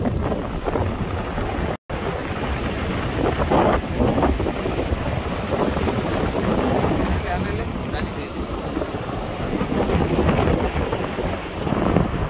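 Waves keep rolling onto the beach at Mandvi in the early-morning quiet under heavy cloud, a loud, dense surf wash mixed with strong wind buffeting on the microphone and a brief dropout near the start.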